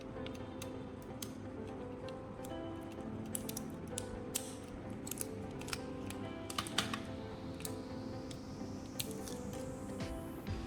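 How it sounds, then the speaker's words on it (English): A utility knife and pliers work apart the plastic casing of an old laptop charger, producing steady scraping with irregular sharp cracks and clicks, close and fairly quiet throughout. "I used a utility knife to separate the plastic, then used pliers to get the carbon rod."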